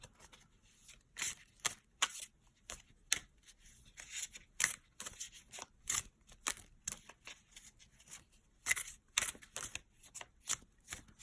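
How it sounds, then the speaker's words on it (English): Tarot deck being shuffled by hand, a close series of crisp riffling flicks and snaps in irregular bursts, soft and near, with brief quiet gaps between shuffles. "These decks are already pre-shuffled, but I'm just shuffling for you guys"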